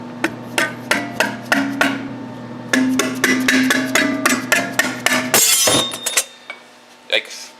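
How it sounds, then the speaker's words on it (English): A hammer striking a jammed blade on a cutter, a series of sharp metallic blows in steady rhythm, then a burst of clanging and ringing as the key shears off; loud and close over a steady mechanical hum. "Let's see if I can hammer this thing off."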